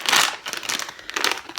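Crinkly vacuum-packed plastic bags of yarn being cut open with scissors, giving bursts of crackling, rustling plastic in uneven handling gestures, close and fairly loud with no talking.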